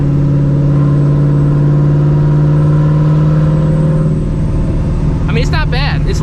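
Procharged 2V Mustang GT with open exhaust cutouts cruising in sixth gear at about 45 mph, lugging with a loud, steady low drone that shifts slightly partway through.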